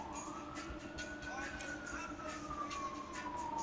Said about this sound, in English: Now I hear the sirens.